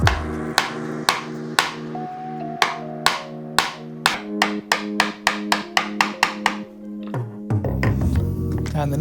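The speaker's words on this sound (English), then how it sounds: "using a small chisel for this is a very good way of doing so" A small chisel, struck repeatedly with a mallet, chops waste wood out of a wooden keepsake box, giving a series of sharp, close knocks that start widely spaced and then speed up into a quick rhythm.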